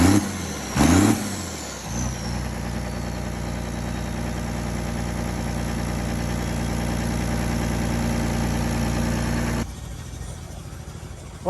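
A Bandit stump grinder with an overheating problem, its engine starting up and then running hard at a steady, loud, close roar for several seconds before the revs drop back at the end.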